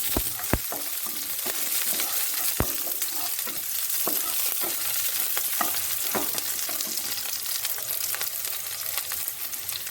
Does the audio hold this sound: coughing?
no